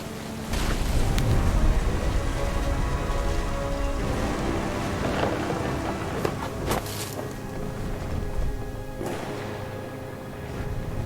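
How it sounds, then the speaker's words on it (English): Steady heavy rain pours throughout in a thunderstorm from the video game What Remains of Edith Finch, with low rumbling thunder rolling underneath and a few sharp crackles standing out. "The thunder sounded much too close and full of angry power."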